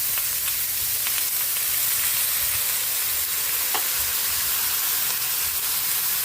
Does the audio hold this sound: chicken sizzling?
yes